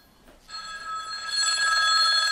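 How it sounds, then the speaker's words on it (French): A mobile phone rings during a lecture, its bright electronic tone starting after a half-second of quiet and then holding steady and fairly loud to the end, with no talk over it. "j'ai oublié d'éteindre mon téléphone"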